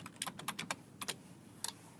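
Typing on a computer keyboard: a quick run of close, crisp key clicks, a brief pause, then a few more taps in a quiet room.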